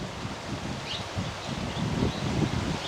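Wind gusts steadily through leafy trees outdoors, a close continuous rustle of foliage with soft swells and faint bird chirps in the background, no talking.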